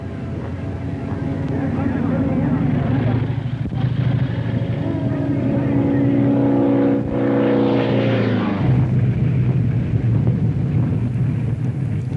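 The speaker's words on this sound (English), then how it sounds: "Doolittle marked his victory with a low pass at full throttle across the finish line." Doolittle's racing aircraft makes a low pass at full throttle over a finish line: a loud, steady engine drone with strong harmonic tones that falls sharply in pitch around eight seconds as the plane passes, then a rougher lower roar continues.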